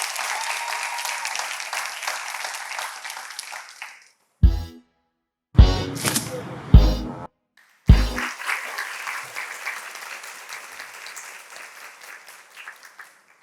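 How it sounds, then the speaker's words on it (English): An audience claps in sustained applause that fades out, breaks for a few loud isolated bangs, then swells again and slowly tapers off. "Please give our representatives a round of applause."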